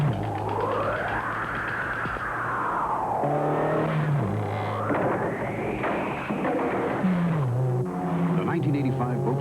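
A 1985 Volkswagen Scirocco driving in a TV commercial, its engine rising and falling in pitch through two long revving sweeps, loud and close, with a voice talking over it.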